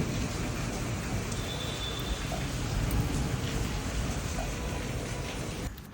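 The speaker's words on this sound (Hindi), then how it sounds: "और फिर इतनी अच्छी बारिश हुई, बहुत ज़्यादा अच्छी" Steady, dense monsoon rainfall hisses continuously, a thick wash of drops with no voices, ending abruptly.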